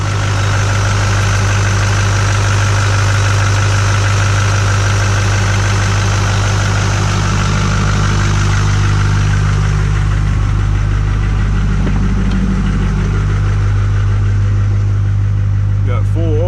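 A 2002 LB7 Duramax diesel truck engine idles loud and close after a cold start at 16 °F, with a deep, steady rumbling drone and slight knocking, unchanging throughout.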